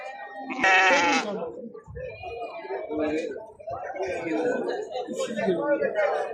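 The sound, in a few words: Qala lamb bleating at livestock market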